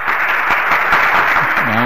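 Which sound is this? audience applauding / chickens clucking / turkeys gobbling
audience applauding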